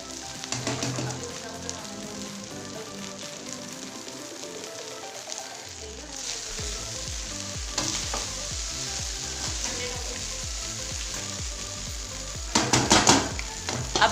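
Egg fried rice being stir-fried in a pan with a Punjabi-style tempering, a continuous sizzle with rhythmic scraping and tossing of the spatula, growing louder and busier near the end.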